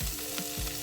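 Pumpkin leaves hitting a pan of browned chopped garlic and onion, giving a loud, steady frying hiss with a couple of brief stirring scrapes over about a second.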